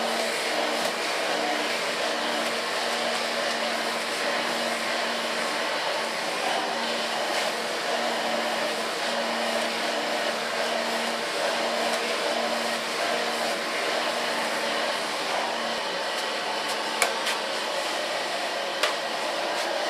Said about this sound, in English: And so I work my whole hair till I get no hair left to blow dry.